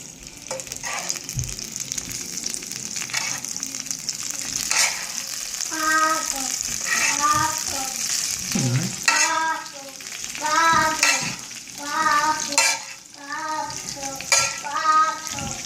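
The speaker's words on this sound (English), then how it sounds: "because the plate is very hot, so it's nice and sizzling" Loud, steady sizzling of garlic shrimp on a very hot ceramic plate, crackling continuously while a person talks over it.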